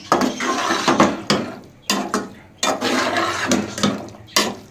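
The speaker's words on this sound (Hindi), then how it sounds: "अच्छे तरीके से मैं मिक्स कर लेती हूँ।" Chana dal is stirred in a cooking pot in a home kitchen. A spoon scrapes and squelches through the thick dal in repeated rhythmic strokes, close and moderately loud, with brief pauses between the passes.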